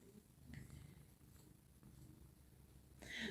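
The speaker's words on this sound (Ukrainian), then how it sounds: "Муркотіш." A cat purrs softly and close by, a low steady rumble that is quiet throughout, with a brief rustle near the end.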